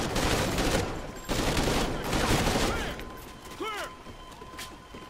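Bursts of rapid automatic fire from an SA-805 rifle in the Call of Duty: Ghosts campaign, loud and close at first, then fading into mechanical clatter as a voice speaks over it.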